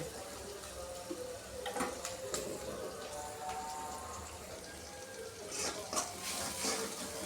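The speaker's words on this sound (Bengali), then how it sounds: "এখন এই টমেটোগুলো ধুইয়ে সুন্দর করে কাটি রাখছি" Tomatoes are washed under a running kitchen tap, with water splashing steadily and faint clinks and rustles from handling, while a voice talks softly in the background.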